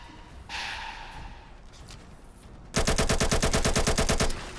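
A Scar rifle in Fallout 4 fires a rapid automatic burst of evenly spaced shots, loud and close, after a few quieter game sounds.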